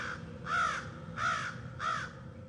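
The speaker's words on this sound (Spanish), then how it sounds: "Los pájaros estaban dando vueltas sobre nosotros ahora, sus sonidos hacían eco por toda la ladera." Three harsh crow caws in a slow, even rhythm, somewhat distant against a quiet background.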